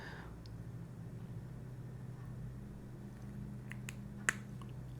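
A fountain pen ink cartridge pierced and clicking into place, giving one sharp, faint click near the end against a low steady background hum.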